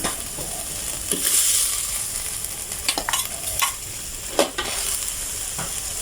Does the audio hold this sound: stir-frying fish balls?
yes